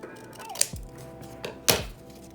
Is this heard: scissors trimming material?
yes